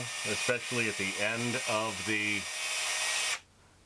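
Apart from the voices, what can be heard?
power drill turning a Brownell's barrel lapping tool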